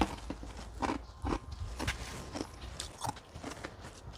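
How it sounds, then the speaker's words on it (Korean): Ice cubes are crunched and chewed close to the mouth, giving a quiet, uneven run of crisp cracks and bites with short pauses between them. "목이 칼칼해서 얼음을 좀 깨먹고 있습니다."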